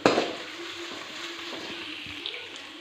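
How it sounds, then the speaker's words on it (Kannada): Chopped garlic hits hot oil in a pan while making gobhi manchurian, giving a steady soft sizzle and crackle throughout with a faint low hum underneath and a brief louder spatter at the start. "ಸಣ್ಣದಾಗಿ ಹೆಚ್ಚಿಟ್ಕೊಂಡಿರೋ ಬೆಳ್ಳುಳ್ಳಿ ಹಾಕ್ಕೊಂಡು ಟೂ ಸೆಕೆಂಡ್ ಫ್ರೈ ಮಾಡ್ಕೊಳ್ಳಿ"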